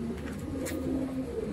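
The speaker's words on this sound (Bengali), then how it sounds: "বাচ্চা কবুতরগুলো এখন খাবার খাওয়ার জন্য এদিক ওদিক ছোটাছুটি করছে" Pigeons, including young birds, coo low and continuously around their cage at feeding time, fairly faint over a steady background hum.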